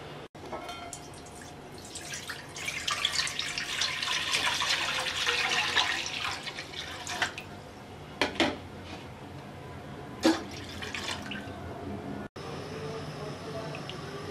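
Milk, 1.5 litres of it, pours into a pot on a stove, a steady liquid splash building and then tapering, followed by a few sharp clinks of the pot and utensils.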